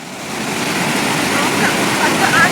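Rushing water from a waterfall roars steadily and loudly close by, a dense continuous wash that builds slightly toward the end.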